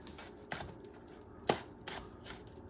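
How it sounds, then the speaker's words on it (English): Knife chopping food on a cutting board while preparing arròs negre, a few soft, separate thuds and scrapes spaced out over a couple of seconds, quiet and close. "Or you can just smash it and chop it"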